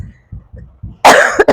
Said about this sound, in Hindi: खांसी बहुत ज्यादा हो रही है।